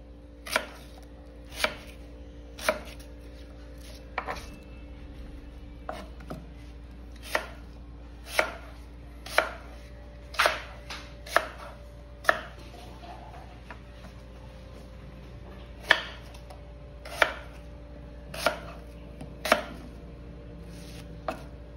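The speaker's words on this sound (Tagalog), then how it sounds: "Guys, yung apple natin, hiwain natin into cubes" A knife chops an apple into cubes on a cutting board, giving a long run of crisp, evenly spaced knocks at close range, with a low steady hum underneath and no talking.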